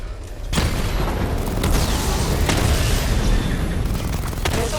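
Batmobile weapons fire in Batman: Arkham Knight, a loud continuous barrage of booming blasts and explosions with sharp impacts layered over a heavy rumbling low end.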